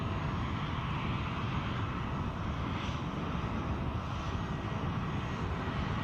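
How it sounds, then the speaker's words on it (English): A Loganair Embraer 145 jet at Edinburgh Airport produces a steady, broad engine roar that holds at an even level for the whole stretch. It sounds moderately distant and comes with some wind noise on the microphone, and nobody speaks. "we have a Loganair Embraer 145 inbound from Southampton"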